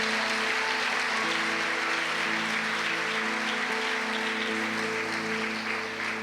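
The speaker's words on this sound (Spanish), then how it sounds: "Damos fuerte esa ofrenda de palmas a nuestro Dios, hermanos." A church congregation claps together in an offering of praise to God during a worship service, sustained dense applause over steady organ or keyboard tones and low hum throughout.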